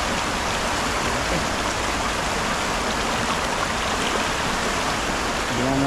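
Strong river current rushes past, a dense, loud, steady hiss and roar of churning water that fills every moment without a break, close by and unchanging.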